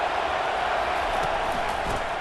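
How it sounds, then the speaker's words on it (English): A stadium crowd in EA Sports College Football 25 roars as a dense, steady wash of noise, loud and unbroken across the whole moment, with no distinct voices standing out. "listen to the roar of this crowd"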